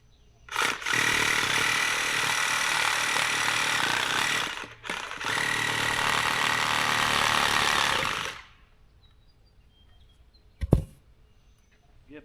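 A reciprocating saw cuts out a leftover piece during a solar installation build, loud and steady for about four seconds, pausing briefly, then cutting again until it stops, followed by a short knock.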